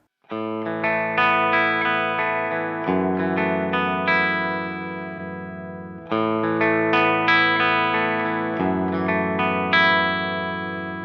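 Electric guitar through a Neural DSP Nano Cortex amp capture plays sustained clean chords, a few strums ringing out with a rounded, slightly chorused tone and light reverb, no voices.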